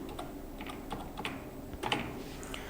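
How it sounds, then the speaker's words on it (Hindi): Fast, irregular keystrokes on a computer keyboard as a password is entered, clicking continuously and fairly close with a few louder taps, no talking. "मैं अगेन यहाँ पे पासवर्ड डाल लेती हूँ"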